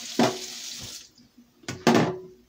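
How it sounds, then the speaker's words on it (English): Water pours from a kitchen tap into a cooking pot in two short splashy bursts, fairly close and quiet, with a brief lull between them. "I am going to add some water to it"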